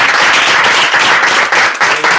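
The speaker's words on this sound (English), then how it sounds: "But give us a round of applause." A lecture-hall audience applauds after a global conversation panel on governments and the media, dense, loud, sustained clapping from many hands throughout.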